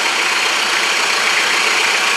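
A 1993 Mitsubishi Pajero engine runs with its exhaust disconnected, giving a loud, steady, raw roar close by with no break.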